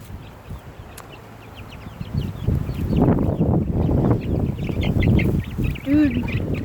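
Fluffy-breed chickens, including a rooster, clucking and murmuring in a farm pen at close range, with soft rustling throughout and people talking over them.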